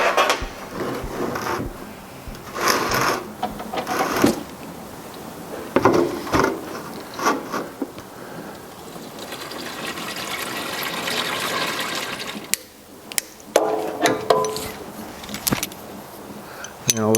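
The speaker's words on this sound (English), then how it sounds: "I'll let this side sit and drip a little bit longer. Get as much of that oil out of there as I can." Hot engine oil draining and dripping from a 1985 Porsche 911 Carrera into a drain pan during a clutch job, a steady watery trickle with scattered metallic clinks and handling noises in a garage.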